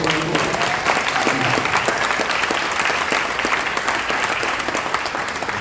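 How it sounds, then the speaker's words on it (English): A lecture audience breaks into steady applause, a dense even wash of clapping that holds for several seconds without letting up. "if everybody could give a round of applause for Ms. Sal"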